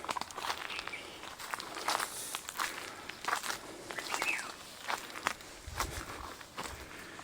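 Footsteps crunch through a Himalayan village farm field in Uttarakhand, a soft, irregular series of steps on dry ground, faint and close with light outdoor ambience.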